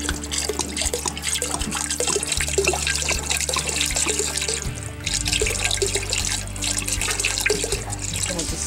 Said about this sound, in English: You're gonna pour the whole bottle in here.